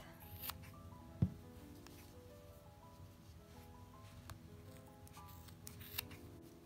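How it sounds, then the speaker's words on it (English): Scissors snipping needle-felted wool legs of a small felt badger, a few soft close crisp cuts with one sharper snap amid faint rustling, no talk. "Now I'm going to cut the back legs"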